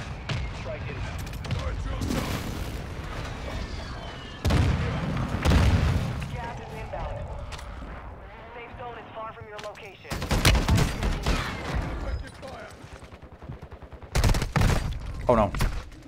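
Shotgun gunfire in Warzone 2 on Ashika Island comes in loud, heavy blasts clustered in several bursts, with sharp reports and rumbling echoes between them while a player talks over the action.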